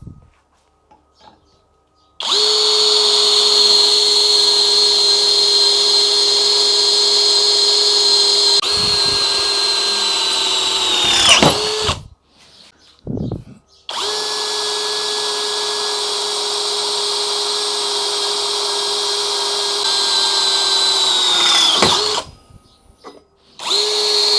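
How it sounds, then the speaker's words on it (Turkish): A power drill with a 5 mm bit runs loud and steady in two long bursts drilling a well pipe, each several seconds, winding down with a short pause between them. "beşlik matkapla delmeye devam ediyorum"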